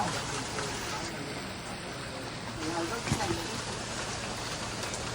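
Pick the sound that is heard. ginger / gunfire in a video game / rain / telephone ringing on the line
rain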